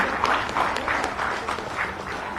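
Applause greets a minister at a government event in Ranchi. A crowd claps steadily in a dense patter that stays moderately loud throughout.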